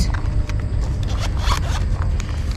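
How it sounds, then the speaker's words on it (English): Zippers on bags found in an abandoned storage unit are pulled open, giving a continuous close rasping zip with small scratchy bursts that lasts a few seconds. "There's so many zippers."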